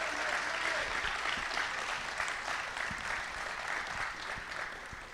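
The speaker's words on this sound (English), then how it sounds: "I'd like you guys to also offer a round of applause for our speakers who came and offered that information." Steady applause from the audience at a Sheep Fire community informational meeting run with the Lassen County Sheriff's Office, sustained clapping throughout with a faint voice or two underneath.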